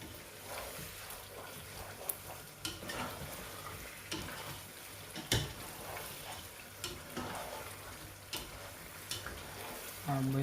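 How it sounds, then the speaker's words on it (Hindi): Masala for chicken pulao frying and sizzling in a pan, a steady low sizzle with spoon scrapes and stirring clacks at irregular intervals and a brief clatter near the end. "अब इसको और मज़ीद 4-5 मिनट भूनेंगे अच्छी तरह मसाले को।"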